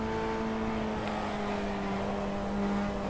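Race car lapping in iRacing practice to warm its tyres, a steady high engine drone with constant tonal whine and road rumble, held at an even moderate level throughout with no talking.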